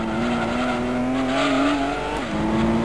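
Race car engine from the Gran Turismo 2 video game, a powerful car with no downforce, snarling steadily at high revs with a brief pitch drop near the end, loud and continuous with no talk.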